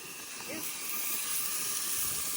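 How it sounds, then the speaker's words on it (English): Trout sizzling as it cooks over a campfire outdoors, a steady bright hiss with faint crackle that holds evenly throughout, close by and without talking. "Listen to his sizzle."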